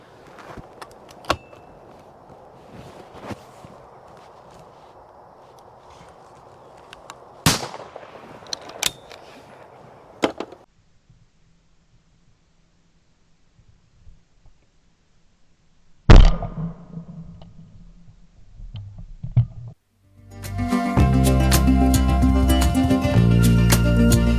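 A shotgun fires at sporting clay targets outdoors, sharp reports at a distance among quieter stretches, before loud music cuts in near the end.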